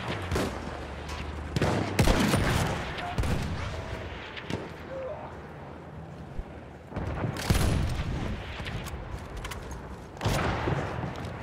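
Gunfire bursts in the World War I shooter Battlefield 1, a sniper match with the Russian 1895 rifle, come in repeated loud volleys with rumbling booms between them, and a voice shouts briefly.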